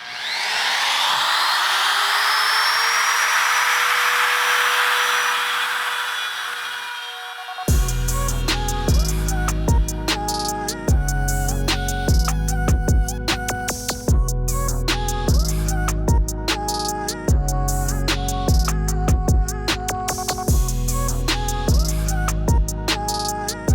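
A router whines steadily while cutting into an IKEA desktop for several seconds, then loud rhythmic music takes over and buries the tool.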